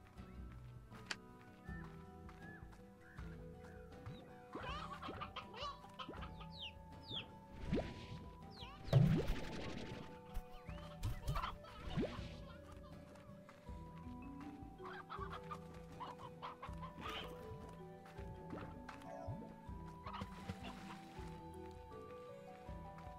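A rooster in the video game Slime Rancher clucks repeatedly in short, close bursts over a quiet game backdrop, with a louder thump partway through.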